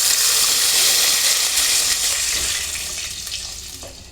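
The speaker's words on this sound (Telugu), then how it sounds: "వాటర్ పోసుకుంటున్నాను" Water pours into a hot pan of roasted ingredients for upma, a loud rushing and hissing splash that gradually softens toward the end.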